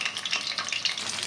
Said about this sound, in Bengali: কড়াইয়ের তেল গরম হয়ে গেলে ম্যারিনেট করা চিকেনগুলো দিয়ে পকোড়ার মতো ভেজে নিতে হবে